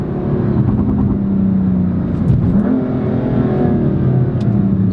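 BMW M4 LCI Competition engine pulling hard through the gears, a loud, steady, throaty roar with rising and shifting pitch and a brief dip at a gearchange, heard from inside the car with no talking.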